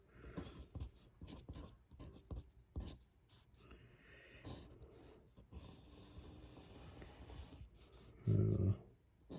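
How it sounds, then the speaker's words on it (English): A pen or pencil writes a table on paper, close and quiet, with irregular scratching strokes and short pauses, ending in a brief louder rub or bump. "it's going to let me rewrite the table over here in this paper"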